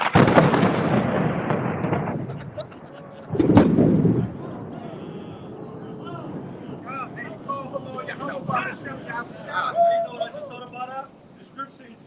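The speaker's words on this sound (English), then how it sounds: "the lightning that we just heard in the thunder" Thunder rumbles outdoors during a stormy camp gathering, with a loud burst near the start and a second crack a few seconds later. Windy noise follows, and faint voices can be heard in the background.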